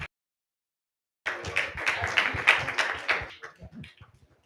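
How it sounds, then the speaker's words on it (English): A live audience at a community cultural performance event bursts into a round of applause after a brief silence, dense clapping building and then thinning out over a few seconds, fairly close and loud. "Can we give a big round of applause,"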